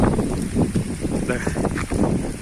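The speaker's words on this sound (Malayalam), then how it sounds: "കണ്ടില്ലേ പൊരിഞ്ഞ കാറ്റാണ് പൊരിഞ്ഞ കാറ്റ് കണ്ടോളി" Strong, gusty wind over a river roars and buffets the microphone continuously, with a broad rushing noise and faint water or boat sounds beneath.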